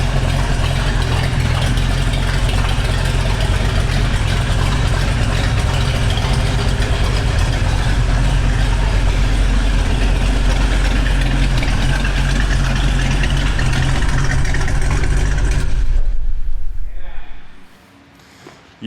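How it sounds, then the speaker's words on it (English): A 1970 Chevy Chevelle with a 454 big block V8 idles through open headers, a loud, deep, lumpy rumble holding steady for about sixteen seconds before it stops abruptly, leaving a moment of near quiet. "there's really nothing like the sound of open headers on a Chevy big block"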